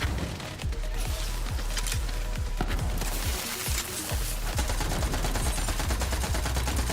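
Rapid shotgun blasts from the Borderlands 3 video game, firing as dense repeated bursts with booming low thumps, loud and continuous across the whole stretch amid constant game effects.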